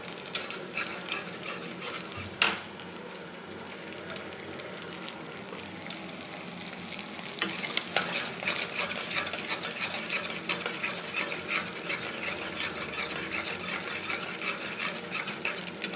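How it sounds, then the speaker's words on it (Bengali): Two eggs are stirred and fried in a pan, with a steady soft scraping and light sizzle throughout and an occasional clink of the utensil against the pan. "ডিম দুটোকে আমি ভালো করে নাড়িয়ে ডিম দুটোকে আমি ভালো করে ভেজে নিই।"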